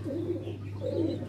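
Soft, low Rampuri pigeon cooing in two rounded phrases over a steady low hum, close by with no talking.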